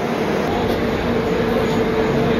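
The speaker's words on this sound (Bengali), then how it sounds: "8:42 সময় ট্রেন বালাসোর স্টেশন থেকে ছেড়ে দিল" The Puri–Sealdah special train pulls out of Balasore station with a loud, continuous rumble and steady mechanical hum, close and unbroken throughout.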